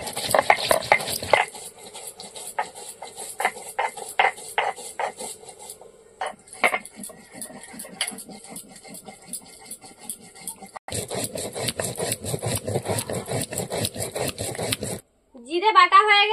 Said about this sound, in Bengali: দুটো তরকারির জন্য এবার আমি জিরে বেটে নেব।